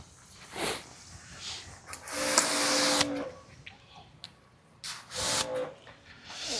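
A pressure washer lance sprays off to the side in short bursts, loud hissing rushes separated by quieter gaps.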